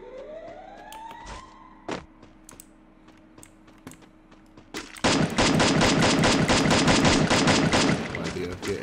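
Rapid automatic gunfire fills the second half, a dense, loud burst of shots from a Free Fire match, preceded by scattered clicks and game effects.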